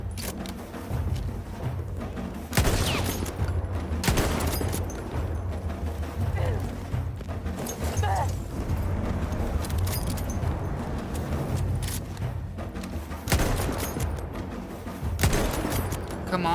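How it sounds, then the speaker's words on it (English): Rapid bursts of gunfire aimed at a tank in the World War I shooter Battlefield 1, with repeated volleys and heavy booms over a dense battle din while someone talks throughout. "Come on, I'm shooting the tank."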